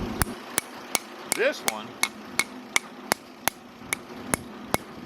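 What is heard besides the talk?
hammer lightly tapping Farmall Cub rear differential part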